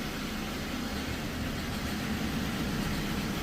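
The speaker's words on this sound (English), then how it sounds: "You could hear the engine go down." A car engine idles steadily with a dead cylinder, a low, continuous rumble and no other sounds, close and moderately loud throughout.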